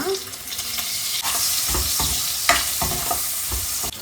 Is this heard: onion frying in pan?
yes